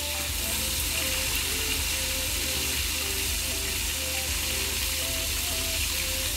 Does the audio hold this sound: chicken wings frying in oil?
yes